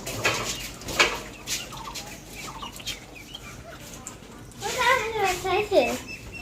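Chicks and ducklings peep and cheep in a cluster, with brief clucking mixed in; the calls come in short bursts and grow busier and louder toward the end, close by.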